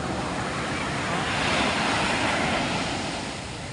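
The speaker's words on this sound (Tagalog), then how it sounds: "Grabe yung alon guys. Ang lalaki oh." Heavy ocean surf roars close by at Bulungan fish market, swelling to a louder crash midway and easing off, with wind gusting across the microphone.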